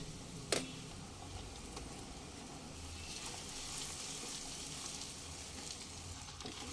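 Oil sizzles steadily as spices, bay leaves, green chilies and ginger-garlic paste fry in a pan, a constant crackling hiss with a sharp clink near the start.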